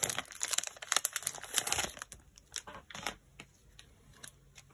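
Yu-Gi-Oh! booster pack foil being torn and crinkled open close up, a burst of sharp crackling rustles followed by softer intermittent crinkles.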